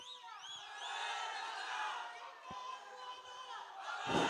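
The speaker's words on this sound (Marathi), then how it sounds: "एक जोरदार टाळी द्या" A distant crowd at a political rally in Dahiwadi, Maharashtra cheers and whoops in a rising, sustained roar, with scattered shouts and a brief thump near the end.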